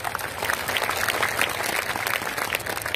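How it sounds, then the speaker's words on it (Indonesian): Large crowd at an outdoor religious gathering in Kebumen, Indonesia, applauding steadily, a dense and loud wash of clapping over low crowd rumble throughout. "Tepuk tangan untuk Pancasila kita."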